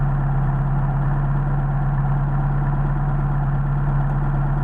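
A Mercedes 190SL fitted with Solex 44PHH carburetors idles close by, giving a steady, even low hum with a constant tone and no change in pitch.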